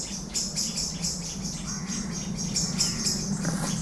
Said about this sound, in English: I wish I hadn't scared the birds.